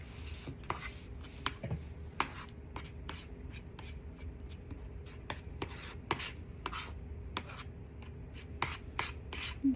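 Acrylic paint being mixed into green, a steady close scraping and rubbing of a palette knife or brush with repeated sharp strokes and taps, no voices.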